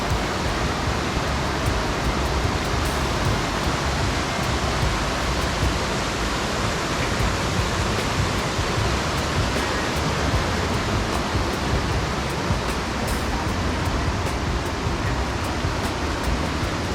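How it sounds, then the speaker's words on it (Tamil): Water pours steadily down Kuthumkal waterfall beside a road in Idukki, on the route from Munnar to Rajakkad, a loud, continuous broadband roar close by with no talk over it. "சூப்பராக தண்ணி விழுகுது."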